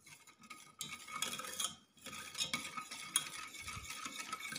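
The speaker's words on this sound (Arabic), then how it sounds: "نخلط هكا هاد الكريم باتيسير مع السكر سنيدة والحليب" Pastry cream being whisked with sugar and cold milk in a bowl, a steady, close, busy scraping and tapping that runs almost continuously with one brief pause.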